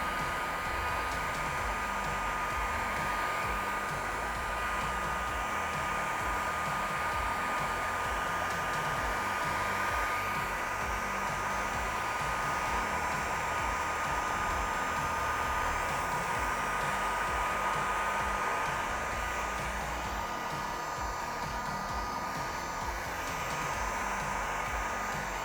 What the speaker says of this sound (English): Same deal, heat gun on low.